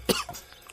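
A man coughs once, sharply and close, as food catches in his throat, followed by a short rough throat-clearing sound.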